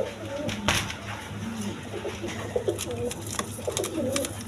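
Soft, rolling coos from colouring Gorra pigeons for sale, repeated in short phrases over faint background noise and occasional clicks, with no speech.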